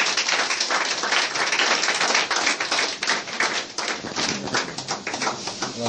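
A congregation at a French-language religious gathering claps and applauds to acclaim the Lord, a dense, steady patter of many hands sustained loudly for several seconds with no talk over it.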